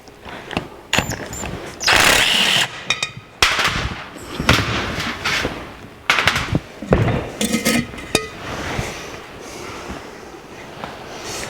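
Differential cover being pried and knocked off the axle housing of a 1982 Jeep CJ7, with loud sharp metallic clanks and bangs in irregular bursts, close by, with scraping between hits.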